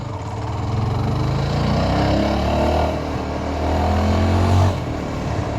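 A 2026 Yezdi Scrambler motorcycle engine runs close by and revs up on an empty road, its pitch climbing steadily before a brief louder surge near the end.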